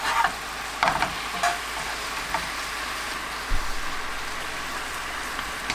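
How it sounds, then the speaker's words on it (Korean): Cod fillet frying in a pan of salty soy-ginger glaze, a steady close sizzle and crackle with a few sharper pops and spits, no voices. "양념이 3분의 1 정도 남으면 대구를 뒤집습니다"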